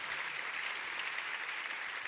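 A church congregation applauds an apostle in a dense, steady wash of clapping heard from within the crowd, sustained and even without breaks.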